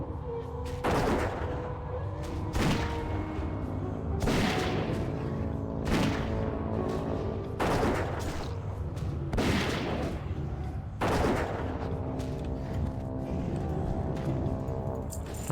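Rapid Fire gunshots from a dwarf hunter in Classic World of Warcraft, a run of sharp loud shots and booms repeating about every one to two seconds over a steady game soundscape.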